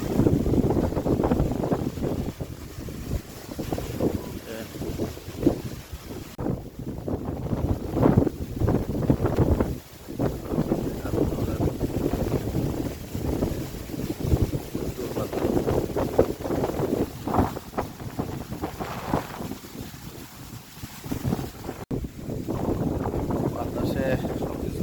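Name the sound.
strong wind during a storm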